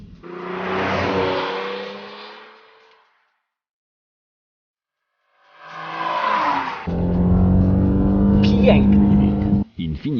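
An Infiniti G37 engine spins up hard toward 8000 rpm, a loud sustained engine drone that enters after a stretch of talk and a short silence.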